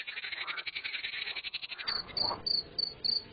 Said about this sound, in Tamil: அங்கொன்றும் இங்கொன்றுமாய் தவளைகளின் எக்காலம் எதிரொலிக்கிறது.